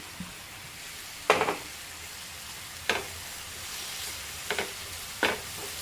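A spoon stirs grated coconut filling with cardamom powder in a pan over a faint, steady sizzle, with four short scraping strokes spaced a second or so apart and no voices.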